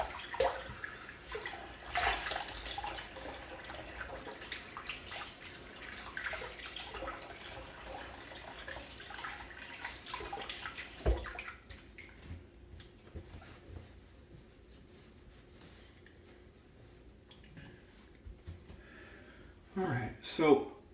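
Water running from a tap during a shave, a steady hiss with splashes for about eleven seconds before cutting off, with someone talking intermittently nearby.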